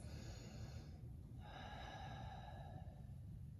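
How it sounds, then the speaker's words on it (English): A person breathes deeply while resting between held exercise reps: a long breath, a short pause, then another drawn breath, close and fairly quiet, with no talking. "A couple deep breaths"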